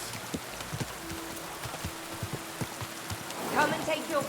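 Horse hooves clip-clopping in the rain in the game Kingdom Come Deliverance 2, irregular soft thuds under steady rain patter, with a low hum and a short voiced burst near the end.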